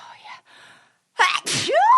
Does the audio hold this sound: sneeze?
yes